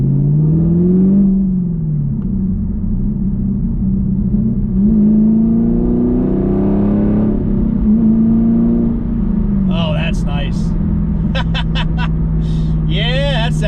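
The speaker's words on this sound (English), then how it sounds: "So far, exhaust is great. It's loud when you want it to be, when you put your right foot down" Camaro fitted with an MBRP axle-back exhaust accelerates on a road, its loud, close engine note rising and falling through gears, with someone speaking over the roar toward the end.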